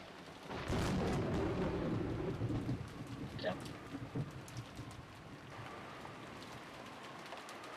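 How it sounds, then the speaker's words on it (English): Heavy rain pours down in the Umineko When They Cry visual novel game, with a deep rolling thunderclap early on, then a softer steady downpour as the storm continues. "it was the sound of the rain, which had continued on and on since the previous night"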